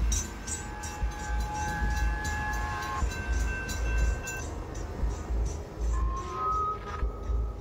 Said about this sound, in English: standing just inches away from the passing train